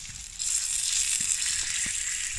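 Lamb chops on a stick sizzling over a small IKEA twig stove outdoors, a continuous soft hiss of fat and flame with a few faint crackles.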